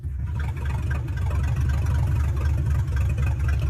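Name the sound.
Vortec 4.3 engine idling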